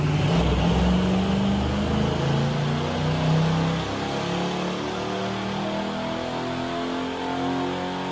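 A 400 small-block Chevy V8 with a small cam and Edelbrock intake, fitted in a C10 truck, revs loudly and holds a deep, steady engine roar for the whole stretch, close up with no voices.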